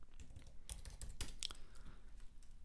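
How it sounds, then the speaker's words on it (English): Keystrokes on a computer keyboard as a command is entered, a short burst of irregular clicks and taps, close and fairly quiet with no talking. "So we need to open up the terminal as well and type in pip install Selenium."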